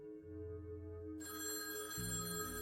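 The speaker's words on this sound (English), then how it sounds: "his phone rang" A telephone bell rings with a bright, sustained metallic tone, steady and faint, heard alone over a low background with no voices.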